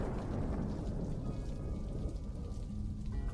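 Heavy unseasonal rain falls with rolling thunder, a thick, continuous low roar of downpour and rumble that stays steady and close throughout without any voices.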